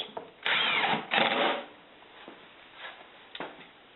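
A power drill drives screws into the top plate of a SIP panel, giving two loud whirring bursts close together followed by fainter, shorter runs of the drill.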